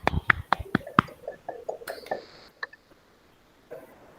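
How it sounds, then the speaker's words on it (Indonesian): A handful of sharp hand claps in quick succession in a classroom, then scattered fading claps and light room noise. "Dari kelompoknya Putri, kita tepuk tangan."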